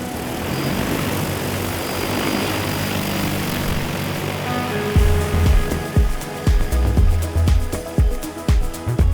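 A steady droning rotor hum fills the air, then louder buzzing passes with sharp clicks and thumps close by, as an agricultural multirotor spray drone flies overhead.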